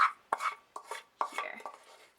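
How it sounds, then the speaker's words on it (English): Cooked onions scraped out of a skillet into a potato filling, several short scraping and clattering strokes in quick succession, close and fairly quiet. "We're just going to take them right out of the skillet and add them directly in"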